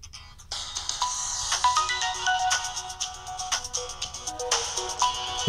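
Sprint's default ringtone plays from a Samsung Galaxy S2: a bright, clear melody of plucked and chiming tones in a lively rhythm, loud and close for several seconds, with no talking over it.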